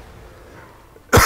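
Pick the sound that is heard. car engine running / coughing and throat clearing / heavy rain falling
coughing and throat clearing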